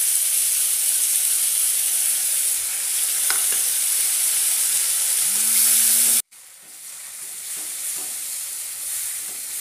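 Onion, garlic and ginger pastes hit hot oil in a pan for a cauliflower curry. A loud, steady close hiss abruptly drops away partway through, then continues as a softer sizzle.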